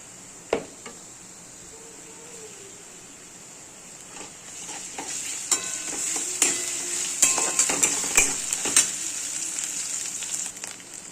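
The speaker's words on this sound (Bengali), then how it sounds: "এবার আমি আদা রসুন পেস্টটা দিয়ে" A steady crackling sizzle of ginger garlic paste frying in a hot pan, with a few sharp clinks of a utensil stirring and scraping, growing busier toward the end.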